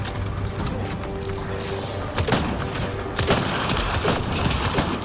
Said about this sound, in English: Getting shot from down here.